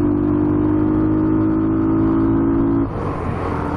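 A car engine being run in pulls at full throttle, a loud steady drone with a sustained tone that holds for almost three seconds before the note drops and the sound eases off.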